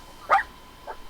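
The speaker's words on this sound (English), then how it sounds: "hey, even the dogs get to put in some input" A dog gives a single short bark nearby, followed by a fainter second yip just under a second later, with no talking over it.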